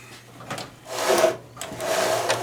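A part on a Husqvarna snowblower being swiveled back and forth during lubrication and cleaning, making two scraping, rasping bursts of friction close by, with no talk.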